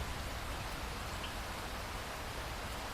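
Steady heavy rain pours down throughout a storm, a dense, even hiss of drops with no gaps, alone with no voices.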